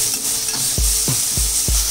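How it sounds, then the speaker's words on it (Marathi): Onion sautéing in a nonstick pan hisses loudly and steadily while a spatula strikes the pan in four quick, evenly spaced thumps; no talking. "अशा प्रकारे कांदा आपण थोडा कच्चा पक्का परतवून घेऊया"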